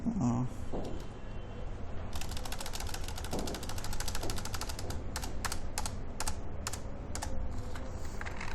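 Typing on a computer keyboard while building a Klaviyo sign-up form, with rapid bursts of key clicks mixed with slower individual presses, close and fairly loud over a steady background.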